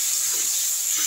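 A spice mixture simmering with water in a pan gives off a brief, steady bubbling hiss, close and continuous, with no other sounds.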